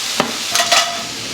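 Meat frying in a pan on medium heat gives a close, airy sizzle, broken by a few short scraping stirs of the food.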